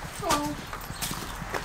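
A horse's hooves clip-clop in a few irregular steps close by, mixed with a voice speaking over them.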